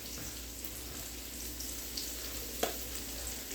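Mushrooms, onions, garlic and butter fry in a pan on medium heat, giving a steady close sizzle with a brief clink of a utensil near the end.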